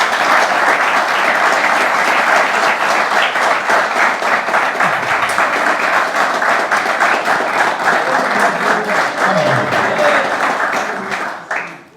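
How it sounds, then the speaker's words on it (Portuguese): A church congregation claps continuously and enthusiastically for about twelve seconds, a dense, steady wash of applause that fades out at the end. "Os irmãos podem dar uma salva de palmas para Jesus?"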